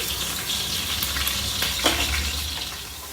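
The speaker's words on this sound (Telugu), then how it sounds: "గీ అండ్ ఆయిల్ మంచిగా వేడైపోయింది ఫ్రై చేసుకోవాలి బ్రౌన్ కలర్ వచ్చేదాకా కూడా ఫ్రై చేసుకోవాలి" Hot ghee and oil frying in a pan while cooking chicken biryani, a continuous close sizzle with a brief stir-like clatter near the middle.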